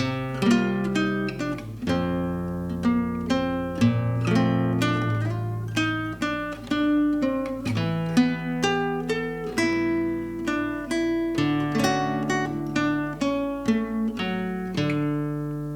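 Solo guitar improvises melodically over chord shapes from a tune, a steady stream of plucked notes and chords, close and clean, with no voices.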